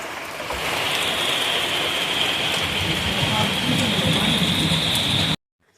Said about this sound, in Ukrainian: Друзі, прийшов дощ